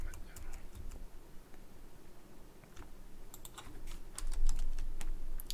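Computer keyboard keys tapped in quick irregular bursts while a SQL join query is typed for a MySQL employees database, faint and close, with no talk.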